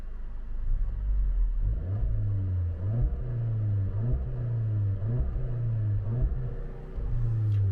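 Seat Leon Cupra 300 engine revving hard against the rev limiter, a loud close rumble that bounces in repeated rhythmic surges as the limiter cuts in, with no talk.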